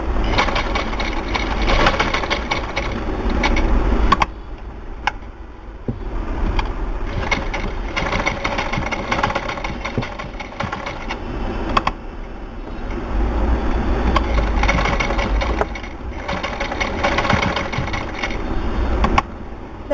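A sewing machine stitches lace onto a garment neckline, its rapid mechanical chatter running in long bursts that pause briefly at the turning points, close and fairly loud.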